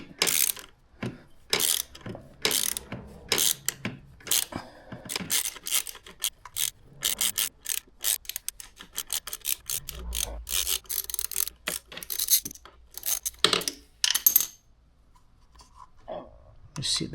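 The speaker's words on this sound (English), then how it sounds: "We'll back off this bolt, and that's a T30 bit." Turning a T30 Torx bit to loosen the bolt on a KTM 890 SMT gear lever: repeated scraping, clicking ratchet-like strokes in quick bursts up close, slowing later, with short pauses and a faint voice at times.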